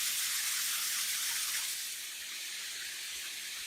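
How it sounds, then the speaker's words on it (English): A waterfall at Red River Gorge, heard from the top, gives a constant bright rushing hiss of falling water that dips slightly partway through. "A view from the top of the waterfall up here."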